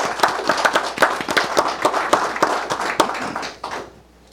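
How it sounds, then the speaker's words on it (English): Audience applause at a Thurston County Board of County Commissioners meeting, a dense run of close, steady clapping lasting about three and a half seconds before it quickly dies away. "Okay, let's clap."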